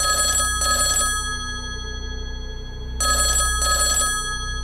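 A telephone bell rings in two bursts, each a pair of bright trilling rings, separated by a pause of silence; loud, close and steady with no voices.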